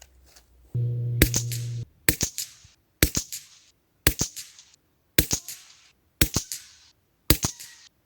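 An Anschütz rifle fires CCI ammunition at a 50-metre range: seven sharp, evenly spaced cracks about one second apart, each with a short decaying echo, preceded by a brief electronic tone.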